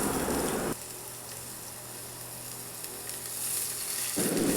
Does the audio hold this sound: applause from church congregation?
no